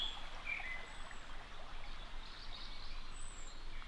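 A river flows beside a garden sitting area by an old mill leat, a steady close wash of running water with faint bird calls chirping over it, no voices.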